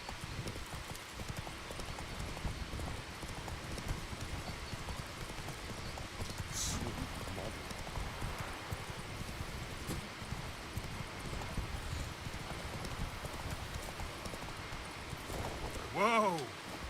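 Horse hooves beat a steady galloping clip-clop in The Witcher 3, continuous and moderately loud over a busy game soundscape, with a brief sharper sweep near the end.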